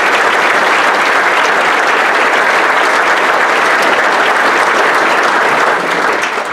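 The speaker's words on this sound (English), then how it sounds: "So Dr. Sale, take a round of applause." A large crowd at a city address gives a loud, dense round of applause. It holds at full strength for over six seconds, with the clapping blended into a continuous wash of sound and no speech.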